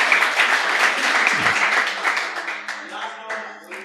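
Dense applause from a poetry recital audience, steady clapping that gradually thins and fades toward the end.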